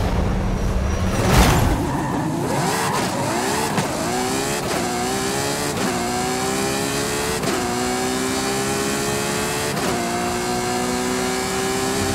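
A 2005 Ferrari FXX engine in Forza Horizon 5 revs hard and climbs through repeated upshifts, each gear pulling its pitch higher before a brief drop. The tone is loud, close and steady, with no voices.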